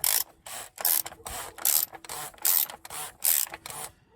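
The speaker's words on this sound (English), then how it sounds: "You're hearing the O-ring as it's sitting inside the" On a 2014 Kia Sportage 2.0 CRDI, the oil filter housing's O-ring squeaks and creaks as a wrench tightens the cap, a close series of about eight rhythmic rasping bursts separated by brief pauses.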